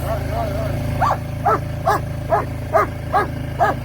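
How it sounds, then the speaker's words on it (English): A dog barks repeatedly in a steady rhythm, about seven sharp barks over a constant low four-wheeler engine drone, near a chicken house. "You're going to hear the dogs."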